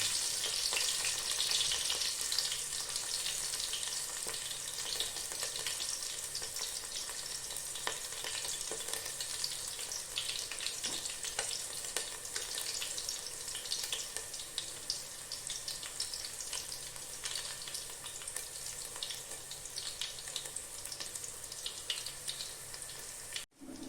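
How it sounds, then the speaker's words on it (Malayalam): Green chillies and spring onion stalks frying in a pan with ginger for a biryani, a steady close sizzle running throughout with small crackles and occasional stirring. "പച്ചമുളക്, ഉള്ളിത്തണ്ട് വേവിക്കുക"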